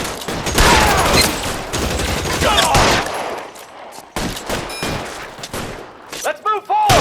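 Bursts of gunfire in the video game L.A. Noire, dense volleys of rapid shots for the first three seconds, then scattered, sharper reports with brief gaps and ringing tails toward the end.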